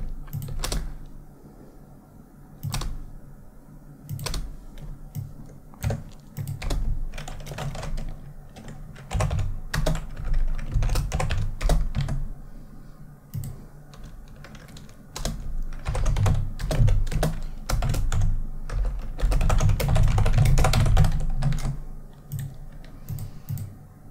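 Computer keyboard typing while coding a React journal app: close, crisp keystrokes arrive in irregular bursts and pauses throughout, with no voices.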